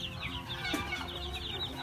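Black chickens, some of them crossbred, cluck steadily on a Thai farm, a busy flock heard at moderate distance over a continuous outdoor background.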